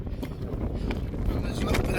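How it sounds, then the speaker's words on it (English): Gusting wind buffets the microphone on a mountain climb, a steady low rumble with brief surges. "It's definitely wind's picking up"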